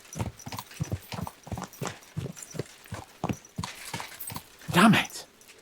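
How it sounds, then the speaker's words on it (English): Horse hooves clip-clopping in a fast, regular rhythm in a medieval action-role-playing game, close and prominent, ending with a louder burst that sounds like a snort or whinny. "Let's really spur these horses on, eh?"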